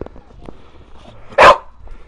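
A single loud, close bark bursts out from a newly adopted family dog against a quiet room, with faint background sounds before and after.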